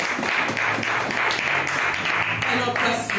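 A church congregation at a Sunday service claps in quick, rhythmic bursts that fill the space, with voices rising through the crowd under the applause.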